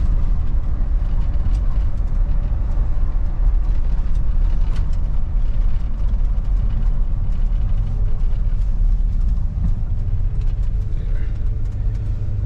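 A 1985 Chevrolet Suburban squarebody with an NV4500 manual gearbox and 4.10 gears cruises in fourth at about 35 mph, its engine giving a loud, steady low rumble with road noise inside the cab, unbroken for the whole stretch.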